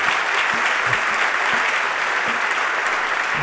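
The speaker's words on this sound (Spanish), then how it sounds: "Un aplauso para él." Audience applause at a 25th anniversary ceremony for a food bank in Asturias, steady dense clapping from a crowd throughout, loud and continuous with no voices over it.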